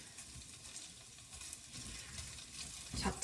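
Food sautéing in a pan, a soft, fairly faint broadband sizzle that runs steadily, with a slightly louder scrape or clatter near the end and no talking.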